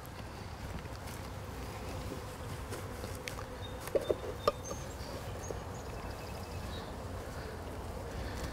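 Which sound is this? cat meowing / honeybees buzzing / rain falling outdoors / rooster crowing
honeybees buzzing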